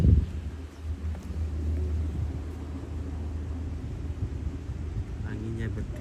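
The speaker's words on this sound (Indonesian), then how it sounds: "Anginnya bertiup sepoi-sepoi." Steady outdoor wind at Lake Sentani, Jayapura, Papua, a broad low rumble buffeting the microphone throughout, with faint voices murmuring underneath and a short burst of speech near the end.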